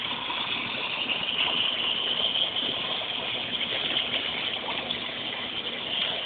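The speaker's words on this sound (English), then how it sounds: "Quit kicking the water out, Maddie." A Boston Terrier kicks and splashes in a pool: steady rushing, churning water with constant splashing and sloshing, fairly loud and continuous throughout, no voices.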